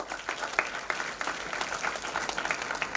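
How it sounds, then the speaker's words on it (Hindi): An audience at a health and wellness startup pitch event gives a team a round of applause, a lively clapping crowd with distinct rhythmic hand claps standing out, moderately loud and steady throughout. "तो ये टीम के लिए बहुत जोरदार ताली हो"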